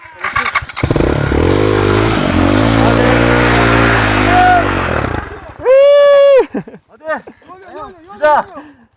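An enduro motorcycle at Beşevler revs hard on the throttle, its engine note rising and holding loud and close for about five seconds. Shouting voices follow once the engine drops away.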